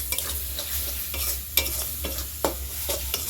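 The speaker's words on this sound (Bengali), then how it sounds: "এবার মশলাটা কষবো।" Spice paste with chili and cumin powder frying in oil, a continuous soft sizzle with scattered scraping stirs against the pan, close by and moderately quiet, no voices.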